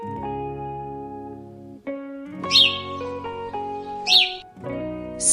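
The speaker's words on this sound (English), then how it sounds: "Sparrow." Sparrow chirps in two short, bright bursts over a sustained, tonal musical backing that carries on underneath.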